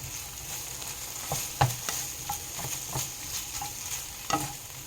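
A spatula scrapes and stirs spicy sausage frying in a pan, a steady sizzle under irregular clacks and scrapes of the utensil, with no voices.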